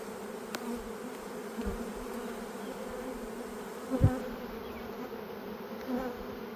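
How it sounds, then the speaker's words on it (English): Honeybees buzzing in an open full-size colony during a spring split, a faint steady hum with a few brief knocks and handling sounds from nearby. "Just due to the number of bees"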